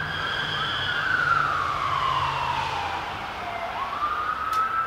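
County and state police cars pass with wailing sirens, a continuous rising and falling siren tone that holds steady and loud before dipping and climbing again as the vehicles go by outdoors.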